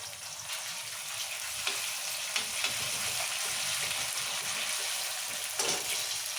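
A spoonful of ginger garlic paste fries in very hot oil for chicken vepudu, producing a continuous, fairly quiet sizzle with occasional soft ticks from stirring.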